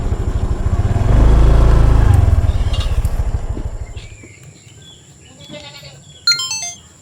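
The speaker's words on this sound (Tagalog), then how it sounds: "May kambing din." A goat bleats a couple of times on a cattle ranch over a loud rumbling engine that fades out, followed by quieter outdoor noise and a short sharp sound near the end.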